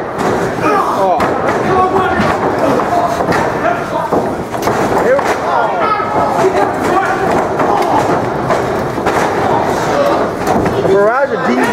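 Heavy thuds and slams of wrestlers hitting the mat in a rapid barrage of DDTs during a small independent wrestling show, ringing out amid a loud crowd and excited commentary.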